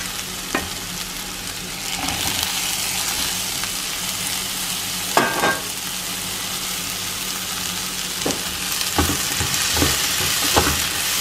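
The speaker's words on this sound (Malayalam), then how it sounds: "ഇനി നമുക്ക് തക്കാളി ഇട്ട് കൊടുക്കാം." Tomatoes tossed onto softened onions in a pan for a Kerala-style chicken curry fry with a loud, continuous sizzle, punctuated by occasional sharp stirring clinks and scrapes.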